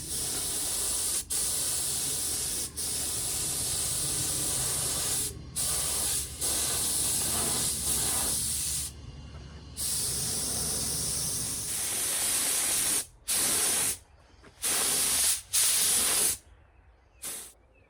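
A spray gun lays epoxy primer onto a classic car body, a loud steady hiss in long passes that breaks off into short bursts toward the end.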